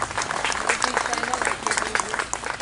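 A crowd at an outdoor public road-inauguration function in a village claps to welcome a guest, with rapid, uneven clapping heard from a distance at a moderate level.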